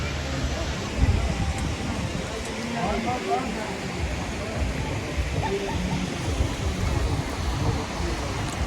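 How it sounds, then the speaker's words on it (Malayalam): A waterfall at Ganga Maya near Darjeeling roars as a constant broad rush of falling water, heard from a short distance, with faint voices underneath. "അവിടെ വെള്ളച്ചാട്ടത്തിൻ്റെ ശബ്ദം കാണാം"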